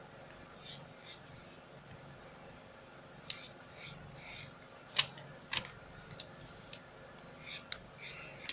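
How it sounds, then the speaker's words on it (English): Scissors snip open the yarn loops of a pompom in short crisp bursts, several quick cuts clustered together with pauses between, close and quiet. "So I'm going to cut open all these loops."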